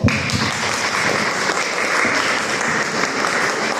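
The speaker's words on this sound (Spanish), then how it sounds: "para quien pido un fuerte aplauso" A loud, sustained round of applause from a lecture audience at a museum conference, dense clapping from many hands continuing evenly without a break.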